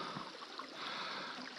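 A large stream running in spring thaw, a steady broadband rush of flowing water, faint and continuous with no talk.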